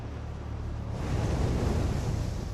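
Waves lapping on a shore at night, a steady broad wash of surf that swells louder after a second, with wind rumble and no talk.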